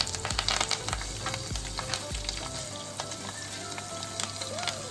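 Steady crackling sizzle of curry leaves frying in hot oil for a tempering, with a few sharp pops and scrapes near the start, no talking.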